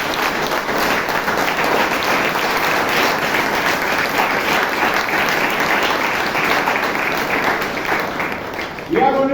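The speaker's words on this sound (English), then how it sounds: "So please give all of the speakers a huge round of applause" A Toastmasters meeting audience in Bangalore gives the speakers sustained, loud applause that fills the room steadily for about nine seconds, with a voice breaking in right at the end.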